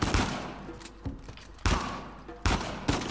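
Dense bursts of automatic gunfire from the video game Uncharted 4: A Thief's End, several loud volleys cracking out in quick succession with echoing tails between them.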